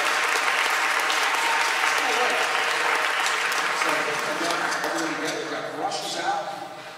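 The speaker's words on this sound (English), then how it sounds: "give a big round of applause" An audience at a spring school band concert applauds in a full, loud wash of clapping that gradually thins and fades toward the end, with some voices mixed in.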